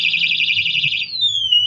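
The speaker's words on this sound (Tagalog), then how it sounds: "Yun, nag-alarm lang yun." A Supremo Aithussa electric bike's anti-theft alarm sounds loudly and close up. It gives a rapid warbling electronic tone that slides into a single falling siren sweep, with no one talking.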